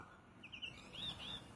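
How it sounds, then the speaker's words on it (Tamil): An Asian koel (cuckoo) calls at dawn in the early morning, a few faint rising whistled notes heard at a distance over a soft background hush. "இப்போ கூட பேசிகிட்டு இருக்கோம், குயில் கூவிட்டுருக்கார்."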